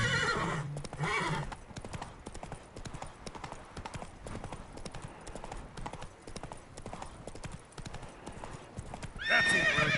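In The Witcher 3: Wild Hunt, a horse gallops at full charge with steady, rapid hoofbeats, opening and closing with loud whinnies and snorts.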